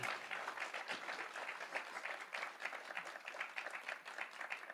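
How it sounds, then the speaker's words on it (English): Audience applause after a live music performance, a sustained, even roar of many hands clapping, fairly distant and soft, continuing steadily for nearly five seconds without talk. "Give them one more round of applause, please."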